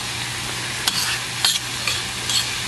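Tomato fillets cooking in a pan with oil while scallops are pan-seared for a Provençal relish, giving a loud, even, close sizzle broken by a few quick stirring scrapes.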